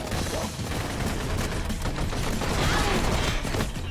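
Rapid bursts of gunfire in the video game Blue Estate crackle densely for a few seconds, a continuous fusillade of overlapping shots at moderate loudness.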